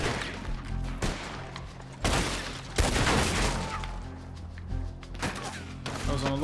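Bursts of gunfire in a Red Dead Redemption gameplay shootout, several sharp, loud cracks at irregular intervals over a low rumbling game background.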